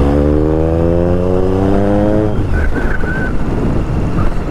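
A new superbike engine revs up in a rising smooth whine that climbs steadily in pitch before dropping back to a rough, loud idle, heard close and alone.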